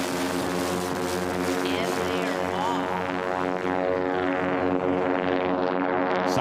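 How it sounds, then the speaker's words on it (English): Sport aircraft propeller engines drone loudly side by side at a STOL drag race, a dense harmonic buzz that holds steady and climbs slightly as the planes start off, with a voice announcing over it. "Here comes our sport aircraft."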